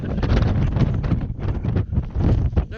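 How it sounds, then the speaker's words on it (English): Strong wind gusting across the exposed Y Gribin mountain ridge, a loud, close, rumbling buffet battering the microphone in uneven surges, with no voices. "that's when we hit the wind"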